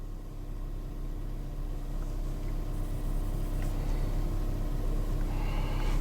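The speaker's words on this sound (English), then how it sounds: "the idle's coming down a little bit, and it'll drop down more as this thing warms up" A car engine idling as it warms up, a low, steady rumble that holds close and constant throughout with a faint rattle and no talking.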